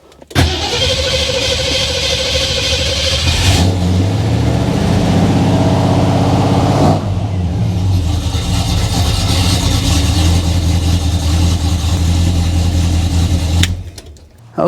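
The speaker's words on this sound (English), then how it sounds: "I'm going to go start the vehicle now." After a jump start from a Lokithor JTC 4250 jump starter, a car engine cranks and catches loudly up close, then settles into a steady idle that runs for over ten seconds before cutting off.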